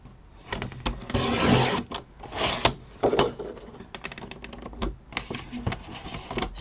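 Card paper being cut to size, a series of rough sliding and clicking strokes, like a blade drawn along a trimmer, in close, uneven bursts.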